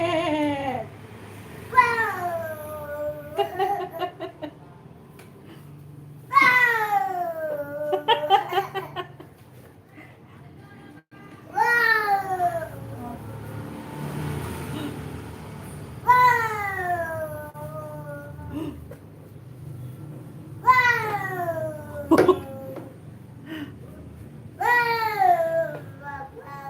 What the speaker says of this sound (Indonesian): Kucing hitamnya ngamuk.